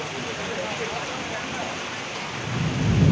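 Rain pours steadily on college roads that are flooding into pond-like water, a dense broadband hiss throughout, with a low rumble of thunder swelling louder toward the end.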